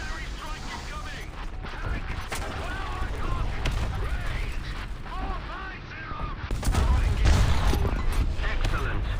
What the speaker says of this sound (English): Artillery strike incoming